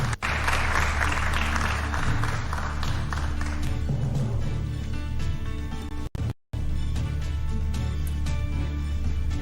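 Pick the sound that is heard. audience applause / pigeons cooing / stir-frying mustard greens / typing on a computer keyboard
audience applause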